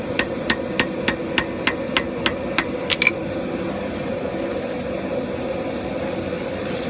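About ten quick, evenly spaced hammer blows ring out while forge welding a Norse-style tomahawk, sharp metallic strikes over a steady roaring forge drone that continues alone afterward.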